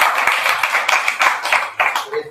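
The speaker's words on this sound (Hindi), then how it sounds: "स्वागत है, ताली बजा सकते हैं।" A church congregation claps in welcome during a Wednesday service, a loud, fast, uneven patter of many hands sustained throughout, with voices mixed in.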